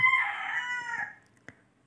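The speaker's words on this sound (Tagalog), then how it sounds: "Maingay yung manok." A single rooster crow, loud and drawn out, fading after about a second, followed by a faint click.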